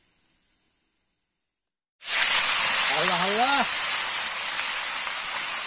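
Mullet fish frying in a pan outdoors during a fishing trip, its loud broad hiss bursting in suddenly after near silence and holding steady, while a man exclaims over it.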